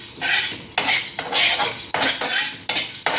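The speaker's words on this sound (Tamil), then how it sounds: "எல்லாமே எண்ணெய் விடாமல் வறுத்துக்கோங்க" Cumin and pepper dry roasting in a pan without oil for paruppu podi, heard as repeated rhythmic scraping and rattling strokes of a spoon against the metal pan, close and fairly loud, with no voices.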